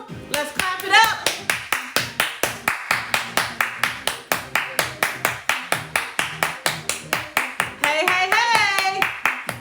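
A room of people clap along in a steady, even rhythm, loud and close, with brief shouts and voices rising over the beat near the start and again toward the end.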